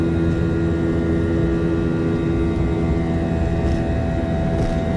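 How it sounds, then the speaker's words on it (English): Boeing 737-800 in Flight Simulator X rolling for takeoff: a steady, loud jet engine roar with a continuous hum, holding constant throughout without talk. "And we can go ahead and take off."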